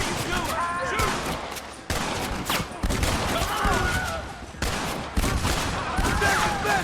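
Repeated gunfire in the Western video game Red Dead Redemption crackles in bursts of sharp shots, loud and close, with voices shouting in between.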